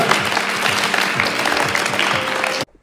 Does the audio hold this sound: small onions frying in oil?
no